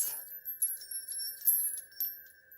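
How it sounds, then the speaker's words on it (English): Small bells jingle and ring repeatedly in a quiet indoor space, bright shimmering strikes with a sustained high tone ringing between them. "cleanse our space some more with some bells."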